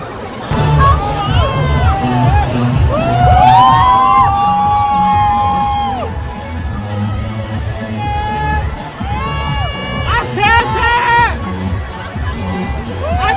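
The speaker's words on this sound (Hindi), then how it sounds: "ये इनके न्यू ईयर की भीड़ देखिए।" A dense New Year crowd in China cheers, whoops and shouts, loud overlapping voices and rising calls filling the air with a constant babble underneath.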